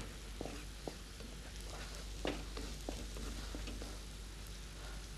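Cumin powder sizzles steadily in hot oil in a pan, with a constant crackling hiss broken by a few soft clicks and stirring taps, and no voices.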